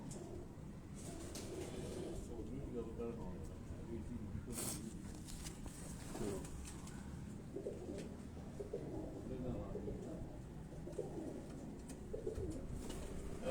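A flock of high-flying pigeons of a prized breed coos softly and faintly against a quiet outdoor hum, with a brief flutter or thump partway through.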